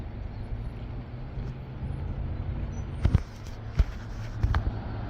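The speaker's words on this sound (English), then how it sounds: "He went and turned around, and this is when he's coming to leave the parking lot" A car pulls away and turns to leave a parking lot, its engine a low steady hum with a few sharper knocks and thumps near the end, heard outdoors without talk.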